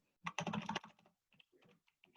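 Rapid keystrokes on a computer keyboard while a spreadsheet formula is entered: a dense burst of close clicking, then a few sparser, quieter taps after a short pause.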